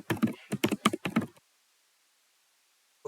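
Quick bursts of keystrokes on a computer keyboard as a password is entered, several clustered clicks close by, then a pause and a final short burst.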